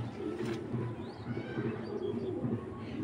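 A chila pigeon coos softly amid a pigeon loft, low continuous throaty murmuring with a few faint higher chirps drifting above, close and fairly quiet.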